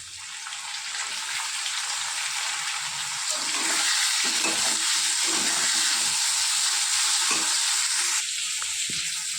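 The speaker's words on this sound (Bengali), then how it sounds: "এবার আমি দিয়ে দেব টমেটো।" Tomatoes go into a simmering bata fish curry in a pan, setting off a close, continuous sizzle and hiss with occasional stirring scrapes that grow louder midway.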